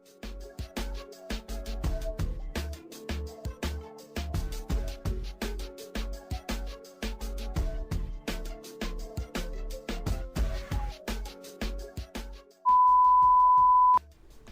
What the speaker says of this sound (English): To cure the UV resin, I use a UV nail dryer.